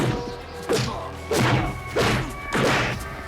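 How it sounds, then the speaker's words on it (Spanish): Four heavy, punchy impact thuds land in a steady rhythm, loud and close, like movie punches hitting a body. "Los efectos sonoros aquí son quizás más contundentes, más robustos. Golpes"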